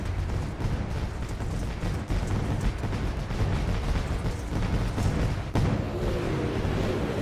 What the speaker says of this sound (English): As the fireworks blow up here at Eldora.